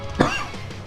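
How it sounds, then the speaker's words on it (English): A single harsh cough bursts out close to the microphone, brief and rough, followed by a quieter throaty tail. "And I'm about to cough right now"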